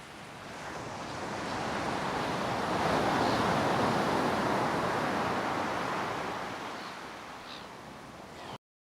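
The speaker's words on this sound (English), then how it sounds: "let's check what the ocean sounds like" Ocean surf rolls in a continuous broadband wash, swelling to a peak midway and easing off again, with no voices.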